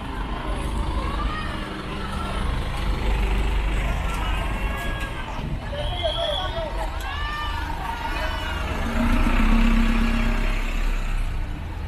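Shuttle buses and traffic at the west parking area of the Mandalika MotoGP circuit, 2022, a continuous rumble of engines and moving vehicles amid a busy crowd, with people talking throughout.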